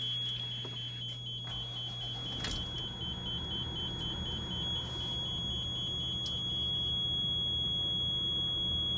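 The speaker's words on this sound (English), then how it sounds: "Right now you're hearing a little beep" A steady high-pitched dashboard warning tone sounds continuously over a low engine idle hum inside a motor coach, with faint clicks and rustles.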